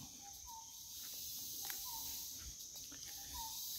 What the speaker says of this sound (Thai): เสียงนกโพระดก